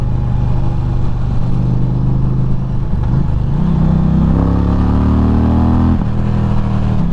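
A 2023 Indian Challenger motorcycle under way, with a loud steady engine drone and wind rush close to the rider; the engine note climbs in pitch as it accelerates, then drops back after a shift.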